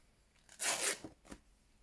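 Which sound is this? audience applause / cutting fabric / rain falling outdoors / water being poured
cutting fabric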